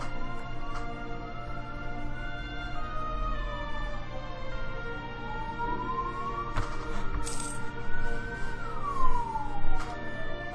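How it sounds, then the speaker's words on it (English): A siren wails in the Europa Universalis IV Art of War strategy game, a faint tone slowly rising and falling in long sweeps over a quiet, steady background, with a few short clicks. "I got a really annoying siren going here."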